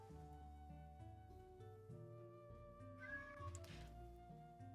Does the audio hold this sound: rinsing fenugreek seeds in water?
no